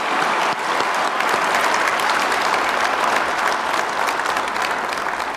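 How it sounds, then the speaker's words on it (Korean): A large audience at a South Korean presidential address applauds business leaders steadily, dense clapping filling the space at a constant loud level throughout. "우리 박수 한번 부탁드리겠습니다."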